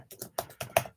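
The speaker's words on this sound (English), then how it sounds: "I'm just typing this out." Keys on a computer keyboard are tapped in five quick, distinct clicks, close and clear, with no voices.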